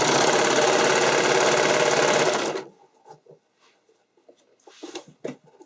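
A sewing machine stitches a skating dress in a fast, steady whirring run for about two and a half seconds, then stops abruptly, leaving only faint scattered handling clicks.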